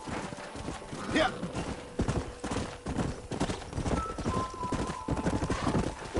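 Horse hooves clip-clop in a steady galloping rhythm in the video game Red Dead Redemption, loud and close, with voices talking over them and a brief whinny.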